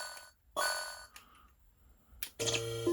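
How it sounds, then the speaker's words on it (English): A DIY arcade machine running Mario Bros answers inserted coins with short electronic chimes and tones, separated by quiet gaps, ending in a sustained synthetic jingle. "And now I'll push my coins."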